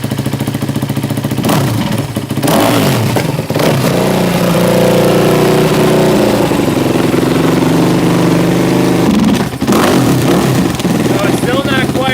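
ATV engine cranks and starts after fuel injector cleaning, then runs loud and close, idling roughly with some revving and brief dips, while a person talks over it.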